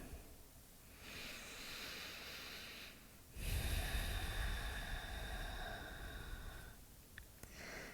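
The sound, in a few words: slow deep breathing during a yoga class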